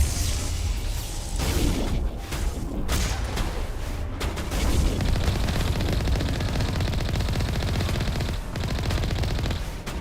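Heavy gunfire and explosive bursts from Mass Effect Legendary combat, including rocket fire, roar continuously for about ten seconds, loud and dense with sharp blasts and whooshes and no talk.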